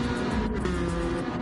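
Gran Turismo-style Gr.4 race cars, including a Supra, drive a circuit in a racing video game, with a steady, loud engine drone and a sustained tone holding throughout.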